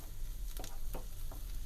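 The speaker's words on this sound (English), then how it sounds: "Now we're going to add in the chilies, or the chili, and we're going to saute that alongside the onions as well." Chili sautes with onions in a pan for an aloo gobi dish, making a quiet, steady sizzle with a few brief scraping stirs; no one speaks.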